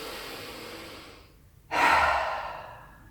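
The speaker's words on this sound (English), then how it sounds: "Let's do some nice 3 cleansing breaths before I say goodbye. Big inhale through the nose," One slow breath: a long, soft nasal inhale that fades, a brief pause, then a sudden, louder breathy exhale through the mouth, close and alone.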